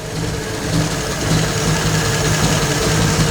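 A 1934 Ford Coupe engine with reproduction Holley 94 carburettors idles steadily at close range, a low rumbling throb with an even, slightly lumpy rhythm and no voices.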